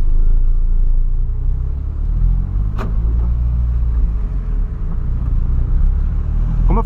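A Ford Ka pulling away and driving, its engine a steady low rumble filling the cabin, loud and continuous with a brief click partway through and no talk.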